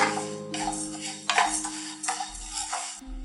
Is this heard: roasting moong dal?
yes